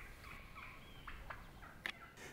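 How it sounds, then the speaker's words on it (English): Wild turkeys calling faintly in the distance at sunrise in wooded bottoms, a few short scattered yelps over a quiet, rumbling background. "Turkeys were yelping everywhere."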